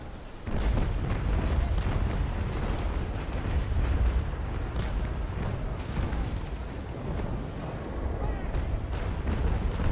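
Cannon broadsides in the Naval Action sailing-warship game, a continuous rumble of booming shots and heavy impacts rolling on without pause, loud and dense throughout.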